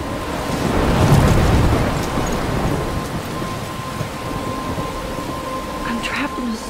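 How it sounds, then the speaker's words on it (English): A thunderstorm in the video game Life is Strange, with steady heavy rain and a low rolling rumble of thunder swelling early, while a voice talks over it. "I'm trapped in a storm?"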